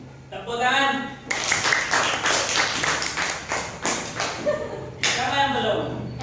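Classroom of pupils clapping their hands during a teaching practice lesson: a dense burst of rapid clapping for about four seconds, with a teacher's voice speaking just before and right after.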